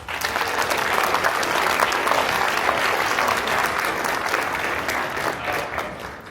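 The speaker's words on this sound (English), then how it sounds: "Please join me in giving your guest speaker another round of applause." In an elementary school gym during an honor society induction ceremony, the audience applauds a guest speaker with steady, full clapping that stays loud throughout and tapers slightly near the end.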